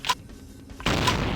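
A shotgun fires in the video game Vampire: The Masquerade - Bloodlines: a brief crack, then a loud, full blast that lingers in a rough, noisy tail.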